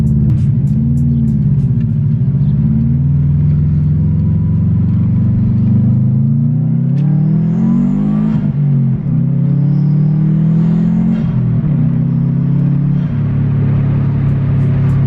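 A car driving along the road on the way to an auto parts store, its mid-pitched engine humming steadily and loudly throughout, with gear changes and shifts in revs breaking the drone every few seconds.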